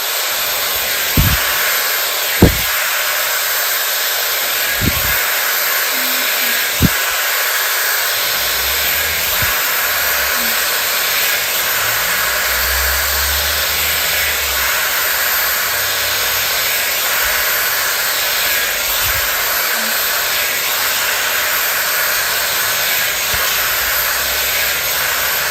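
Steady loud airflow from a Dyson Airwrap Complete hair styler, brush attachment, being drawn through afro hair; a constant whooshing blow runs throughout with a few soft clicks or knocks near the start.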